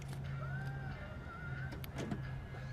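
A 2017 Toyota Sienna minivan's power sliding door moves with a soft steady motor hum and a whirring tone, ending in a couple of faint clunks as it latches, quiet and close.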